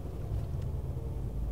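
A 2015 Mercedes-AMG C63 with a 4-litre V8 idling just after start-up, a steady deep low rumble filling the short stretch at close range, with no voices.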